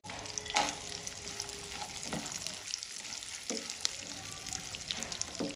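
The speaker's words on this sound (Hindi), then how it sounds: "ये जो हम ड्राई फ्रूट इस तरह से फ्राई करके जो हलवे में हम इनको डालते हैं" Cashews, almonds and raisins fry in hot oil or ghee for suji halwa, giving a steady close sizzle with occasional stirring scrapes and clinks, and no talk.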